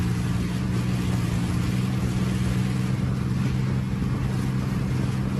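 A BMP armored vehicle's engine runs loud and steady as it drives away, a continuous low rumble with no talk.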